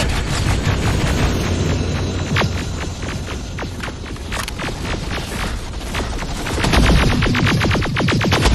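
Movie battle scene full of rapid gunfire bursts and booming explosions, a dense, loud barrage of repeated shots over a rumbling low roar, intensifying near the end.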